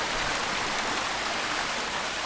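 Small waterfall trickling beside a trail in Yosemite, heard as a steady, dense hiss of falling and splashing water, close and continuous with no voices.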